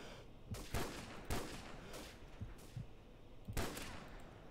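Sniper rifle shots in the video game Modern Warfare, several sharp cracks spaced irregularly about a second apart, with softer muffled thumps in between, fairly quiet overall.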